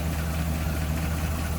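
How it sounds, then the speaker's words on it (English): A 1940 Buick Special convertible's inline-8 engine idles with a steady, smooth low hum and soft even vibration, unchanging and fairly quiet throughout, with no voices. "Very quiet running inline 8."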